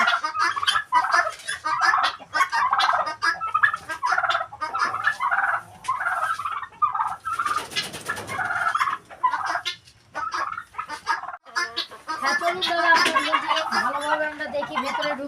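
Poultry on a farm at feeding time, a loud flock of turkeys gobbling and clucking repeatedly at close range, with people talking over and between the calls.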